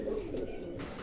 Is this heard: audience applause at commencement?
no